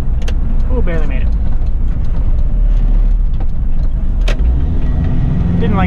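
A 1993 Daihatsu Rugger F78 turbo diesel 4x4 drives with a steady, loud engine drone and road rumble, with brief whining and strained surges as it shifts into third gear; a voice is faintly present.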